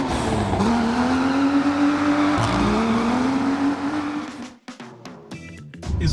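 A 2021 Mercedes-Benz A-Class sedan driving, its engine note rising in a steady, loud, close drone before cutting away near the end to a few scattered knocks and a brief tire-like squeal.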